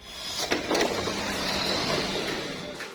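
A Tamiya Mini 4WD Spin Cobra with a small motor runs on a track, giving a steady high-pitched whirring hum with light clicks and rattles throughout, close and continuous.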